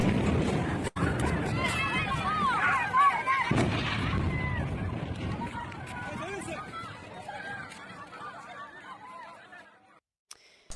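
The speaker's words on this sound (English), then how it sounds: "on September 10th, Israel hit the Taiba Towers in western Gaza City" Airstrike on apartment towers in western Gaza City: heavy booming blasts break out early and again a few seconds in, over a steady din of crowd voices and shouting that gradually fades.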